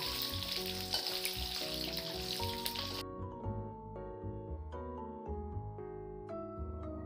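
Steady crackling sizzle of eggs frying in hot oil, close and continuous, with soft music playing underneath throughout.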